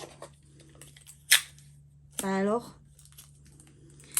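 Crinkly crackling as adhesive tape is handled during makeup application, with a sharp snap and a short squeaky tonal rip in the middle, surrounded by quiet handling noise.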